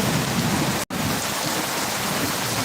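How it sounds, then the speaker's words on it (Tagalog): A heavy downpour drums on in a loud, unbroken wash of noise. The sound cuts out for a split second near the start, then resumes. "Grabe lakas ng ulan,"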